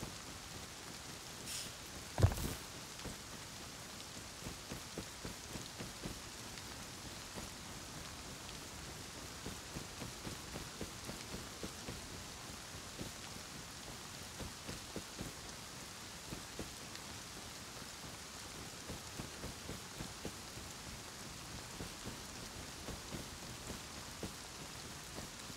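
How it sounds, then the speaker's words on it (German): Steady rainfall in the survival video game Rust patters close and even throughout, a soft continuous hiss with small drop taps and one sharp knock near the start. "Ich werde ganz nass durch den Regen."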